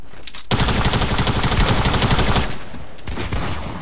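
Loud, sustained rapid SMG fire from a Fortnite match, a dense burst of shots running for about two seconds and then tailing off into quieter game noise.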